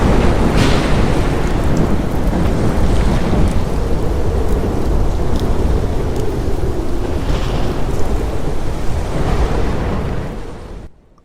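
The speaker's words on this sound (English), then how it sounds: "Meanwhile, outside, the storm raged." A night thunderstorm with heavy, steady rain roaring close by and several deep rolls of thunder rising out of the downpour, loud and continuous with no voices, fading away at the very end.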